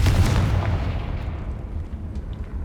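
A loud, booming fire-spell explosion, the Confringo spell in the video game Hogwarts Legacy, bursts near at the start and rumbles away into a fading low tail, with no talking.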